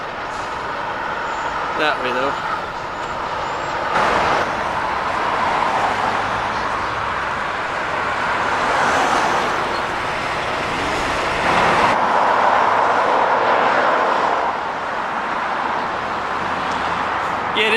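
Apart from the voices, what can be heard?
heavy truck traffic passing on Route 297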